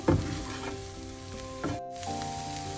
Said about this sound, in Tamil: இந்த டியூனா கொஞ்சம் நேரம் இதோட சேர்ந்து வறுவிட வேணும்